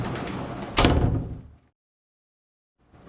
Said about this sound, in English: they tend to open the door quickly.